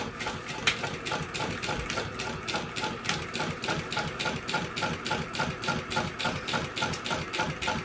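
A Bridgesew 0303D walking foot industrial sewing machine stitching at a steady pace, giving a fast, even mechanical chatter of rapid repeated clicks over a running motor hum, close and continuous.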